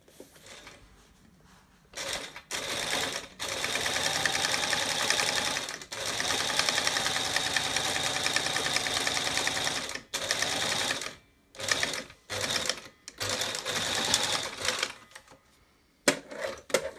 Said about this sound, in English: So I will stitch it.